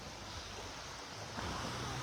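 Sea waves washing ashore beside a seaside lunch spot in El Nido, Palawan, a steady low rushing surf with some wind noise, continuous and moderately faint, without talk.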